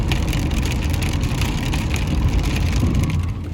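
Rain falls outside in a dense, continuous patter, loud and close, drumming steadily on a surface throughout with no talking.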